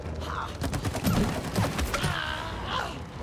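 Rapid bursts of cartoonish gunfire from the co-op video game It Takes Two crackle in a dense barrage, mixed with other game effects and a voice in the background.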